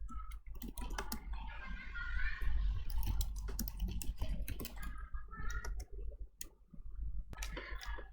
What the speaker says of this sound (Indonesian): Kita ketikkan lagi paragraf yang ketiga.